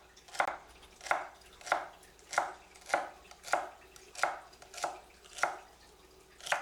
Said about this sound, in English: then just start chopping away